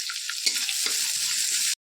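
Onion, garlic paste and green chili sizzle in hot oil, a bright, close frying hiss with scraping stir sounds underneath, stopping abruptly at the end.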